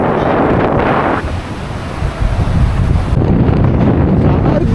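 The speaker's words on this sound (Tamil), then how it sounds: "அலைகள் அலைகள் அலைகள் அலைகள்." Sea waves crash on the shore at Dhanushkodi under heavy wind buffeting, a loud, continuous surging wash that dips briefly and then swells again.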